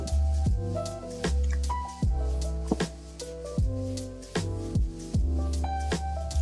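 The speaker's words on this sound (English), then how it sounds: "Let me give it a few sprays on the test strip" Calvin Klein Defy Eau de Parfum is spritzed onto a test strip in a rapid series of close, crisp squirting pumps, around eight bursts in fairly even rhythm, with no talking.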